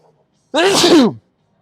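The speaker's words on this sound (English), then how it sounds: "sneeze." A single short, voiced sneeze bursts out close to the mic, lasting under a second, with silence before and after.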